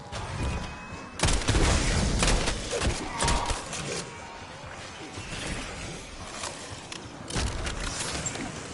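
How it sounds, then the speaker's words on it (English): Call of Duty Black Ops gameplay with a frag grenade thrown amid combat: repeated heavy booms and crashing bursts over a rumbling, gunfire-filled battle scene, loud and close, with a voice speaking faintly at times. "Frag going out."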